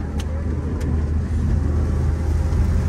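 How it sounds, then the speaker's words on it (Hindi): A car drives along a road in heavy rain between Navsari and Mumbai, a steady low engine and road rumble heard from inside, with a couple of faint clicks. "अरे हमारी गाड़ी जा रही है"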